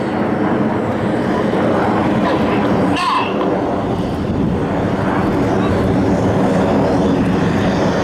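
Red Arrows display jets at Luchtmachtdagen 2019 pass over the top of a loop, their engines giving a loud, continuous broadband roar while a commentator talks over it.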